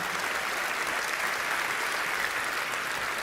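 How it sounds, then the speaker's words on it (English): An audience applauds the Nice Opera Choir at the UEFA Champions League draw ceremony, a steady wash of many hands clapping, even and sustained, heard at a moderate distance without speech. "One more round of applause for the Nice Opera Choir"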